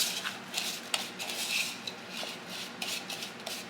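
A spoon stirs a chocolate bar filling mixture in a bowl, with soft scraping and occasional light clinks repeating at an uneven pace, close and fairly quiet.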